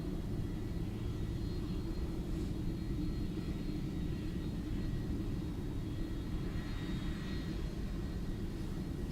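An airplane landing at Dublin Airport, nose held high to slow it, produces a steady, loud, low rumble of engines and airflow that holds for the whole stretch without breaks or voices.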